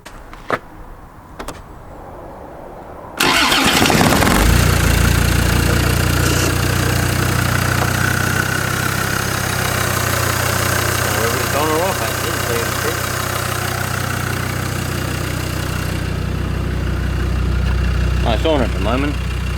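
A Land Rover Discovery 2 engine with a broken AC clutch starts and idles with a steady low rumble and faint whirring, loud and close; a voice speaks briefly near the end.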